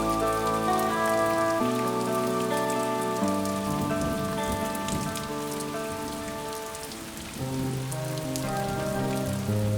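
Steady rain falls in the Konkan countryside, a continuous even patter behind sustained musical tones that swell and shift throughout.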